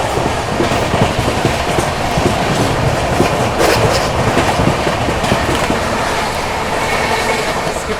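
Magadh Express train running at speed through Hathras Junction, a loud continuous roar with rapid clickety-clack of wheels over rail joints and occasional brief squeals, sustained throughout without talk.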